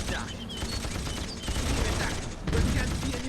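Gunfire crackles through a battle in the strategy game SWINE, a dense, continuous spread of shots and clatter that swells louder toward the end, with a voice talking over it.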